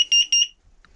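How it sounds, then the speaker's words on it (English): A home smoke alarm or carbon monoxide alarm gives a short test chirp, a quick cluster of piercing high beeps lasting under half a second, then silence. "we've got our smoke alarm and our carbon monoxide alarm."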